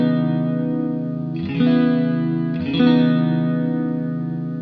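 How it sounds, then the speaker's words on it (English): An electric guitar plays sustained chords through a Swindler Effects The Gulf chorus/vibrato pedal on its triangle waveform, giving a smooth, wavering shimmer, restruck twice, loud and alone. "So moving from the sine wave over to the triangle."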